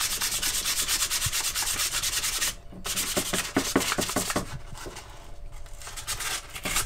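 A knife handle being sanded by hand with 320 grit sandpaper, steady close rubbing strokes that pause briefly, then resume in a quicker, uneven rhythm.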